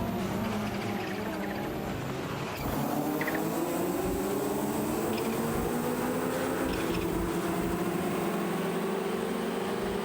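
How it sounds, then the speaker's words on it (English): Racing cars driven by AI in a racing simulator roar along together, engines droning and rising in pitch as they accelerate, loud and continuous with no voices. "We're watching racing cars driven by artificial intelligence in a racing simulator."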